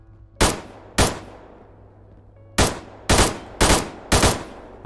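Six sharp gunshots from a World War Metro video game, loud and close, fired as two separate shots, a pause, then a quicker burst of four with short decaying tails.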